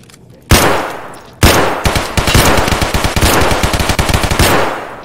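Rapid automatic gunfire from Escape from Tarkov, a close, loud sharp shot then a long sustained burst of closely spaced rounds with no talking.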